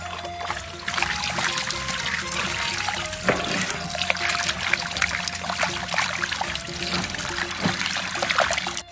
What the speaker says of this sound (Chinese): 肠子翻过来，再洗一洗，把油面子洗干净。